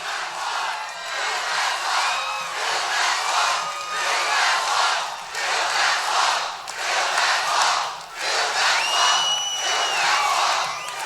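A large political rally crowd in Charlotte, North Carolina roars with sustained cheering, shouting and whooping, loud and continuous with brief swells and dips, no single voice standing out.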